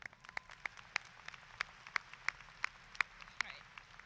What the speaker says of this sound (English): let's just give a huge round of applause for all of our faculty and staff here at Springfield High School